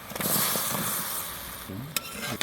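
Bottle gourd stirred into a spice mix of salt and turmeric in a hot pan, a soft continuous sizzle with scraping spatula strokes and a couple of sharp knocks near the end, close and with no talking.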